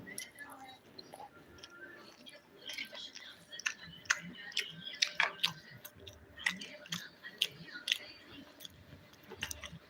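Chewing and biting fried chicken, with crisp crunches and soft clicks scattered irregularly over several seconds, close but quiet.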